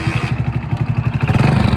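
Old Hero Splendour motorcycle engine running with a steady, rapid low thumping pulse and a slight clattery tone, close and loud throughout with no talking.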